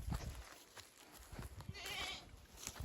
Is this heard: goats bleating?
yes